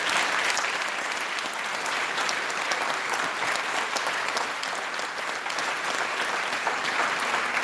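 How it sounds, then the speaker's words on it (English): An audience at a school concert band program claps in a sustained, even round of applause, dense and fairly close, with no one speaking over it. "So if we can give that a round of applause."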